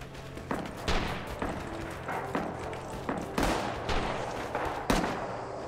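Repeated gunshots crack out in the World War II shooter Rising Storm: Iwo Jima, a scattered volley of rifle and automatic fire with several sharp reports and some heavier booms, steady and fairly loud over a busy battlefield din.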